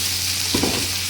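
Chili paste with cumin seeds frying in a hot pan, a soft steady sizzle with a brief stirring scrape in the middle, close and alone.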